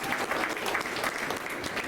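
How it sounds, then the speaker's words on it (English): Audience at a mentoring community awards ceremony clapping for an award recipient, a dense, steady round of applause that fills the whole moment without talk. "I want you to give him a big round of applause."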